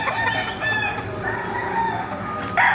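Chickens cluck and a rooster crows nearby at a poultry market in Baliuag, Bulacan, several birds calling over each other in a busy, noisy setting.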